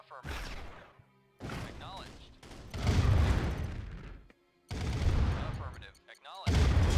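Gunfire rattles in the Command & Conquer Red Alert Remastered strategy game, several loud bursts of shots and explosions separated by short silences.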